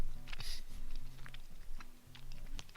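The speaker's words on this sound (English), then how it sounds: "Hopefully you can't hear my chewing too much." Close, quiet chewing of chocolate right by the microphone, soft irregular crunches and mouth sounds over about three seconds, with no talk.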